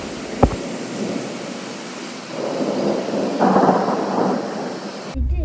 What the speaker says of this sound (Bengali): প্রচুর বৃষ্টি নেমে গিয়েছে